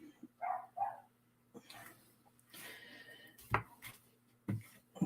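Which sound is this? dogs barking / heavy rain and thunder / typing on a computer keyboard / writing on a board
dogs barking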